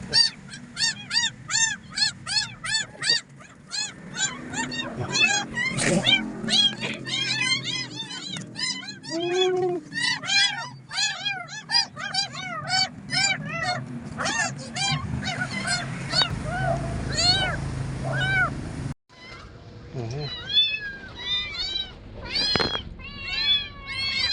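An abandoned kitten that has just been rescued meows over and over in rapid, high, close-up cries, a dense run of short calls with a brief pause near the end, and faint background noise beneath.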